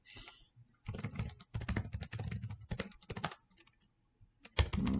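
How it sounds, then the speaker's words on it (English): Quick bursts of clicking keystrokes on a computer keyboard, close and fairly quiet, with brief pauses between typed runs while someone enters a description for a service request. "I'll type in a description."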